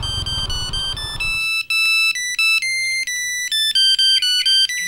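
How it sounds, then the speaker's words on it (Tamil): A phone ringtone plays loudly and nearby, a bright repeating electronic melody of short beeping notes, rising over a brief burst of noise at the start. "நீ ஃபோன் வருதுடா."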